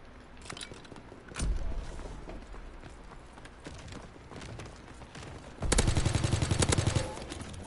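Gunfire in Call of Duty WW2 multiplayer, scattered sharp shots followed by a louder burst and then a sustained rapid automatic volley near the end.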